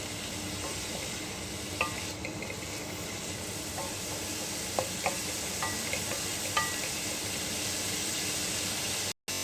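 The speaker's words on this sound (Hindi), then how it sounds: "हल्का से इसको सौटे कर लेंगे इतनी देर तक के प्याज मुरझा जाए।" Chopped onions sautéing gently in a pan for a kebab preparation, a soft continuous hiss with scattered light clicks of the stirring spoon, fairly quiet and even before it cuts off abruptly at the end.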